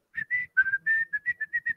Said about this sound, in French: Il y a Mickey qui siffle